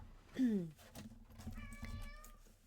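A pet cat gives a rising-then-falling meow, followed by a second, longer tonal meow, quiet and close, with faint background sound.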